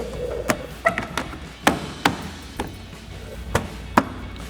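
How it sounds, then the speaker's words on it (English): Plastic headlight trim on a 2014-2015 Chevrolet Silverado 1500 is pressed into place, giving a series of sharp, close snapping clicks spaced irregularly over a few seconds with quiet handling noise between. "Snap that around our corners."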